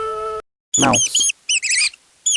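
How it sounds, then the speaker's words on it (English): Mouse squeaks from a children's animal-sounds collection: a short run of high, thin squeaking chirps in quick bursts, clear and close, with no talking. "Mouse."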